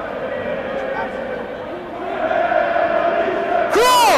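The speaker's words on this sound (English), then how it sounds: "And now the crowd find their voice." Spectators at a university rugby match between Leeds Beckett and Exeter raise a swelling roar, building from a murmur under commentary to a loud sustained cheer, capped by a sharp whistle blast near the end.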